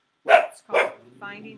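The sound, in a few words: dog barking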